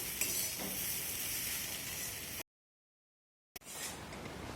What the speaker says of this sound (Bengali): ম্যাগি মশলাটা দেওয়ার পর আবারও আমি সব কিছু খুব ভালো করে ভেজে নেব।